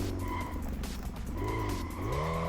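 Car in the Street Legal Racing: Redline racing game, engine droning with rising and falling pitch as tires squeal in a skid, loud and continuous with no talk.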